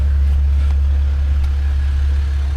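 A 2016 Ram 1500 Crew Cab EcoDiesel 4x4 Laramie sits idling, a steady low diesel hum with an even, unchanging drone and no speech over it.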